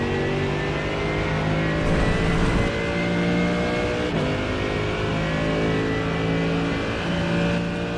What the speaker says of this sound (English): now full throttle